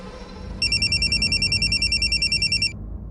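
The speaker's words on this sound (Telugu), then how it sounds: "మీ మమ్మీ దగ్గర నుంచి ఫోన్ వచ్చింది" A telephone ringtone chirps in a rapid repeating electronic trill for about two seconds, loud and close over a quiet low background hum.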